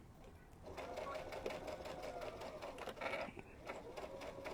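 A sewing machine runs steadily and close while stitching a fabric cupcake pillow, whirring with a rapid, even needle rhythm and a brief pause in the middle, as someone speaks briefly.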